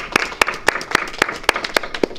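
A small group at a commission meeting gives a brief round of applause, several distinct claps in a quick, uneven rhythm lasting about two seconds, close and moderately loud in a quiet room.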